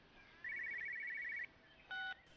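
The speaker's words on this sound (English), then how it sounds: "Sounds like a phone." Electronic phone ring in the game Everybody's Gone to the Rapture: one long trilling tone followed by a shorter second ring over a quiet, faint background.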